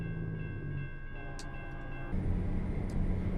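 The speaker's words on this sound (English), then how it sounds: "Train crossing here as well." Train rumbling past a foggy road crossing in American Truck Simulator, a steady low rolling drone with tonal horn-like lines, swelling louder in the second half, with no talk.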